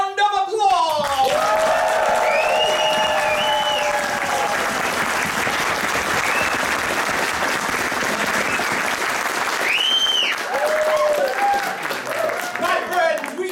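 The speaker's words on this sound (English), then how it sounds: "Another unwarranted, excessive round of applause!" Loud, sustained crowd applause fills an improvised ancient-mythology comedy show, dense clapping throughout with cheers and whoops rising over it and a speaking voice at the start.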